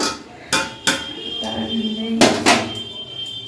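A perforated bowl set down on a pot of water, then covered with a lid, giving several sharp clattering knocks of metal and crockery close by, with someone talking throughout.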